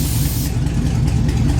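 A vehicle engine idles and runs close by, a steady low rumble with a broad mechanical hiss that holds throughout without any talk.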